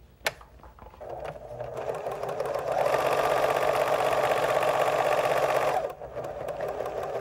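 A sewing machine stitches fabric along a bias-shaped skirt placket. It runs as a steady close mechanical whir that speeds up into a louder continuous hum, then stops and drops back to a quieter idle.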